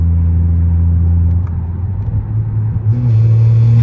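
A BMW 540i exhaust with resonators removed rumbles low and steady with a rasp, dipping briefly before swelling back to a deeper, louder drone; no talking.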